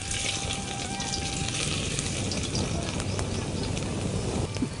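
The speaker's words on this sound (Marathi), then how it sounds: "तूप गरम झालं, यात आपण फोडणीसाठी आणलेलं साहित्य घालूया" Tempering spices, black pepper, garlic, curry leaves and asafoetida, crackling in hot ghee, a dense, steady sizzle running loud and continuous throughout.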